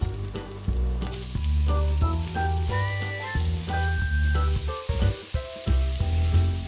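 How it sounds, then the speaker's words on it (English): Finely chopped onion hits a pan of pounded ginger garlic paste for paneer bhurji, giving a steady sizzle that runs beneath loud melodic background music. "we'll add a finely chopped onion."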